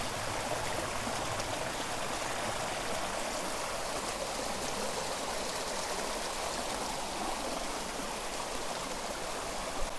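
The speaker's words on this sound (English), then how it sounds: "That'll be nice to sleep to tonight, listening to the water flow like that." A stream running unusually full beside a campsite rushes in a dense, constant wash of flowing water, close and steady throughout with no voices.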